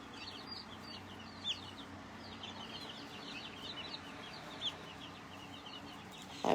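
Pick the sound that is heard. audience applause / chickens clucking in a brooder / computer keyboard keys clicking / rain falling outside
chickens clucking in a brooder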